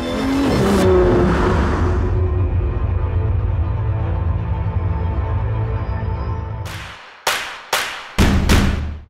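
A Ferrari 812 GTS sports car engine roars loud and sustained, then cuts into a few sharp, brief bursts of revving near the end, with no talk over it.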